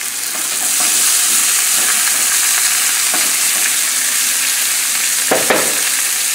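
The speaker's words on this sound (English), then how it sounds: "What smells better than anything that's cooking in butter" Garlic pork fries in butter in a pan, giving a loud, steady, close sizzle with crackling spatters and a few sharper pops near the end, with no talking.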